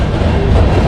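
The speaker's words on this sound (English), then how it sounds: "we are being held up by the train" A train rolls past near Barnston Island, a steady loud rumble of rail cars with a dense, continuous roar and faint rhythmic clatter throughout.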